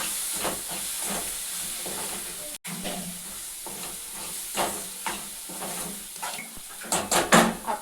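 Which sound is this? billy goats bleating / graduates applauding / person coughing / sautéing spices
sautéing spices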